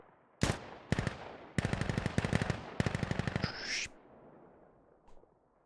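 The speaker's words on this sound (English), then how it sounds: "we'll go ahead and fly away so we're not getting barraged by gunshots" Bursts of rapid automatic gunfire from a competitive team video game, several rattling volleys in quick succession, then a short rising whine and a faint last shot.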